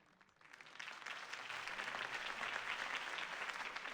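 Crowd applause from a Batman video game, rising after a campaign speech for Harvey Dent: a dense, steady wash of many clapping hands that swells in during the first half-second and then holds loud and even.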